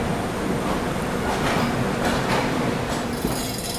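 The Swarna Jayanti Express pulls away from platform 1 at Nagpur railway station, giving a steady broadband rumble of rolling wagons with faint rhythmic clacks throughout, no speech.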